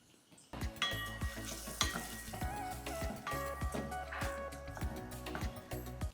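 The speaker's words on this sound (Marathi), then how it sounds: "बढिया 2 चमचे तूप, बारीक चिरलेला कांदा छान परतून घ्यायचा." Finely chopped onion fries in ghee with bright, close sizzling and repeated clinks of a spoon stirring in the pan, while soft music plays in the background.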